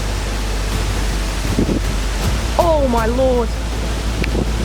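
Strong derecho storm wind roars as a steady, loud broadband rush with no letup, while a person exclaims briefly over it.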